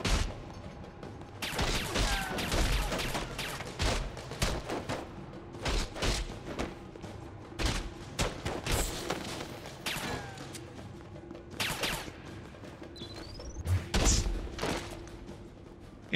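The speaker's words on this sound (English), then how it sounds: "he's shooting" In The Bourne Conspiracy video game, an enemy fires a gun in repeated loud bursts of sharp shots with short gaps between them, over a low background rumble.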